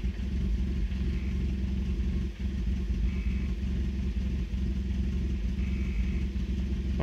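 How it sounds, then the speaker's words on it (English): A 2000 Nissan Sentra engine idling too low, a steady low mechanical hum and faint clatter running evenly throughout with no voices. "That's idling way low."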